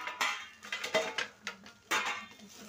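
A spoon stirs and scrapes food in a metal cooking pot, giving a few soft clinks and scraping strokes at close range with no talk.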